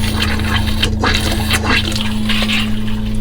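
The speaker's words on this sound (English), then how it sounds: "I don't know if you can hear or not, but my pump's filling it up, I can hear it. So it's spitting out all the air out of this thing." A pump fills a hot water tank while the tap sputters out trapped air: a steady low hum with irregular hissing, spitting bursts of water and air close by.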